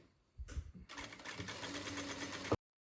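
Sewing machine stitching the bottom hem of a homemade shirt from the outside: a brief hesitant start, then a steady fast mechanical whir running continuously for under two seconds before stopping abruptly, close and alone.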